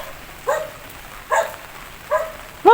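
A dog barks near a car out in the rain, giving three separate single barks spaced about a second apart, with a fourth starting at the end, over a steady light background hiss.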